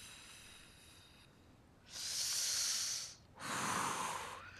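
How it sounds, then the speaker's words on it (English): Two deep, slow breaths of mindful breathing, each a strong hissing exhale of about a second, close to the microphone and alone after a quiet start. "she's doing some mindfulness breathing"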